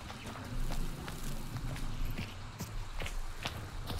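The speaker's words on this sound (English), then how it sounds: "Horse going off to the east." Distant galloping horse hooves in Hunt: Showdown give a fairly steady rhythm of soft thuds over outdoor ambience, somewhat far off and not loud.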